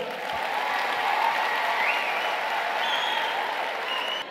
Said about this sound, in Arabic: صفقوا عليهم.